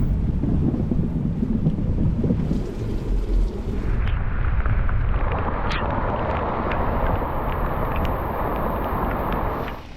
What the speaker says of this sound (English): The humid late August days led to more late afternoon thunderstorms